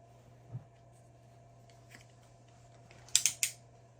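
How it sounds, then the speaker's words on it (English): A Star Trek Nerf toy gun is loaded and cocked, giving one soft early click and then a quick burst of three sharp plastic clacks near the end, in an otherwise quiet room. "Load it up. Push it back in, and then fire it."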